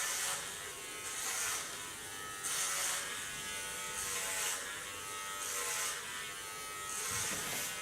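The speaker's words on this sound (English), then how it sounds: "So I use a clipper comb." Electric hair clipper fitted with a clipper comb trimming short hair, a close, steady buzz that swells and eases in repeated passes, with no speech.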